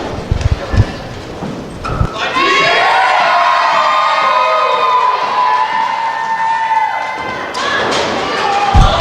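A wrestling arena crowd at a pro wrestling TV show erupts into loud, sustained cheering and shouting that swells and holds for several seconds, preceded and followed by a commentator talking over the noise.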